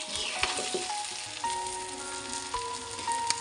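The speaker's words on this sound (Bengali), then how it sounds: "এখন একটু নেড়ে চেড়ে নিচ্ছি।" Ground spices and salt for olive pickle being stirred in a hot pan, with a steady close sizzle and irregular scraping and clinking of the spoon against the pan, no voices.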